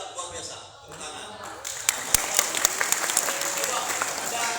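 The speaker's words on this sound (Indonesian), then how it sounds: "Tepuk tangan." Applause from a school audience at a police outreach session, a patchy burst of clapping that swells in after about two seconds and keeps going, with voices murmuring beneath it.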